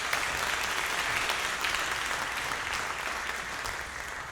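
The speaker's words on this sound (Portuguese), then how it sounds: "Dê uma salva de palmas ao Senhor mais forte." A church congregation applauds in sustained, dense clapping, loud and steady for the whole stretch with no voices on top, easing off slightly near the end.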